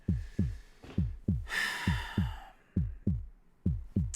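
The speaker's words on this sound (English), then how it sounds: "I tune back into this every 10 minutes, same fucking heartbeat sound" A repeating heartbeat in a game, steady deep thumps about three per second, loud and close, with a brief breathy hiss layered over the beat partway through.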